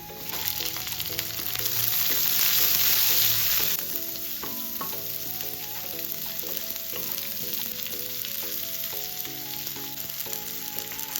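Chopped shallots fry with ginger and garlic in a pan, a loud, continuous sizzle with repeated scraping and clicking from stirring, the hiss louder at first, then settling after the shallots go in.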